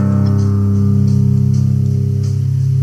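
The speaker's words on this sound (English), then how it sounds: "It's just acoustic guitar." Unprocessed acoustic guitar playing a metal part, steady sustained strummed chords with a full, warm low body, close and loud with no effects and no talking.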